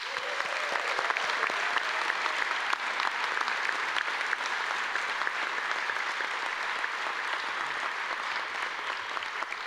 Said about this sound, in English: Let's give a Go Blue round of applause for Ms.